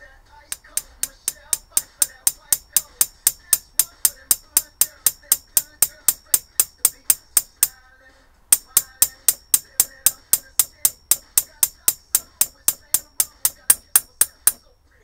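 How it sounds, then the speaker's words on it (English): A light hammer taps metal on a Weber DCOE carburettor in a steady, even rhythm, sharp ringing strikes close up, pausing briefly midway before resuming at the same pace. "Light hammer."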